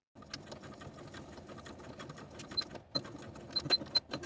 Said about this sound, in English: We're going to sew these front pieces together from the dot that we reinforced earlier to the notch just below it